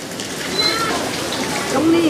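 Heavy rain falls over a small market in Huế, Vietnam, as a steady broadband hiss throughout the short moment, with a few faint chirps and distant voices mixed in.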